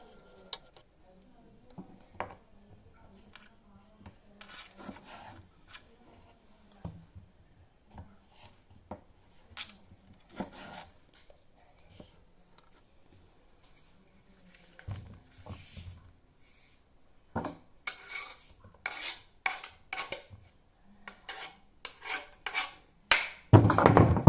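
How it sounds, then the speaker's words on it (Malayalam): A knife cuts potatoes on a cutting board with irregular, dry tapping strokes. They are faint and sparse at first, then grow louder and denser toward the end. "അപ്പോൾ നമ്മളിങ്ങനെ പൊട്ടറ്റോസൊക്കെ ഇങ്ങനെ അരിഞ്ഞെടുത്തിട്ടുണ്ട്."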